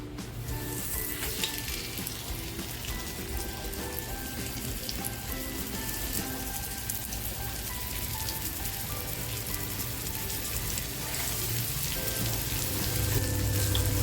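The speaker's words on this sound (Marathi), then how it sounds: "आता फ्राय करायला घेते तेलसुद्धा छान तापलेलं आहे" Saundale fish coated in raw mango masala frying in well-heated oil, a steady close crackling sizzle running unbroken and slightly intensifying toward the end, with no talking.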